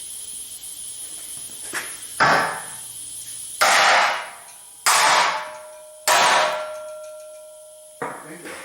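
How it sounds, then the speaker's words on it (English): A sledgehammer strikes a nut threaded onto a crankshaft, giving four loud ringing metallic clangs spaced about a second or more apart, each decaying slowly, with lighter taps between and near the end. "Now we're going to take a sledge. By the way, I have a nut protecting the threads."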